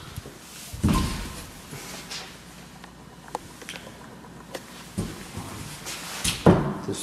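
Closet doors in a condo unit are opened and closed, giving a few dull thuds and knocks spaced out over a quiet room background.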